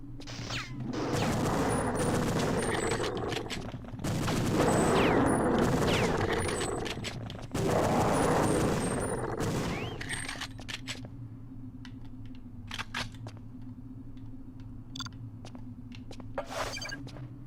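Rapid gunfire in the video game Perfect Dark on Xbox Series X, dense sustained bursts over steady game background hum, fading into quieter ambience with scattered mechanical clicks.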